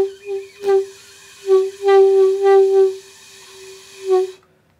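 Underblown saxophone on a small beginner instrument: weak, airy, wavering notes that swell in and out, breathy and unsteady, with no talking.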